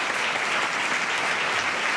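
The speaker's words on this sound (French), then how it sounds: "On peut t'applaudir encore" A television studio audience applauds a guest musician, producing a short burst of dense, even clapping that stays loud and steady throughout.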